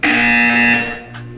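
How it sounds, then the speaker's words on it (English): A loud, harsh electronic buzzer from the video game Portal 2 blares steadily for about a second, then fades with a brief tail, with no voices over it. "You will hear a buzzer."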